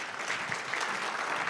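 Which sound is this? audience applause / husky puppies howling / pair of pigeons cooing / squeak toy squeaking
audience applause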